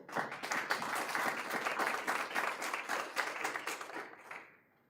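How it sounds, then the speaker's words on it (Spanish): An audience at an entrepreneurship talk claps warmly for a speaker, a full, even burst of applause that holds for about four seconds before quickly fading to silence. "damos un aplauso, por favor"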